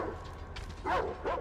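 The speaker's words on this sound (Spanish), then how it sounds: "Aquí los perros que están cabreadísimos." Angry dogs bark in Metro Exodus, two short, moderately loud barks close together over a low rumbling background.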